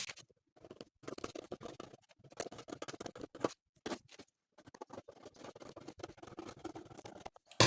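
Scissors cut fabric for a shoulder-cupped corset in close, dry snipping bursts with short pauses between runs of cuts, and no other sound.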